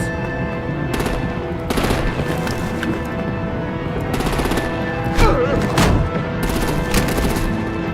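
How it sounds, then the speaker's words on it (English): Artillery and gunfire in the Batman: The Enemy Within video game, heard as repeated bursts of rapid shots over a steady dense battle din, with heavier impacts near the end. "Break out the artillery and disable their vehicles!"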